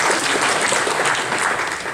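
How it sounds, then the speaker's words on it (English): Steady round of applause from a health care town hall audience, dense continuous clapping close and loud throughout, with no voices over it. "Everybody, round of applause for him"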